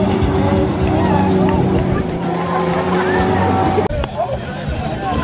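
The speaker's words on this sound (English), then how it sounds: "This guy's on a jet ski." A jet ski engine drones steadily on open water during a race, loud and near, with crowd chatter and splashing around it and a sharp knock near the end.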